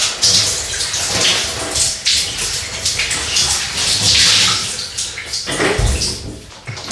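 Water splashing and sloshing in a sink as a face is rinsed with a sponge after a wet shave, continuous close gushing with brief pauses and a louder splash near the end.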